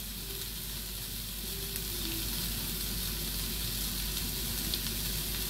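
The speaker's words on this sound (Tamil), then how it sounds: "வெங்காயம் நல்லாக கொஞ்சம் வதங்கட்டும்." Onions sautéing in hot oil for a Jaffna-style pumpkin curry, giving a steady, continuous sizzle with soft crackle throughout, close and fairly quiet, with no voices.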